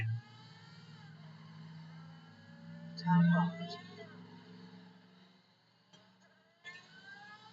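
A loud, steady Unimog truck engine idle in Forza Horizon 5 rumbles low and continuously, with slight wavering and a brief swell midway.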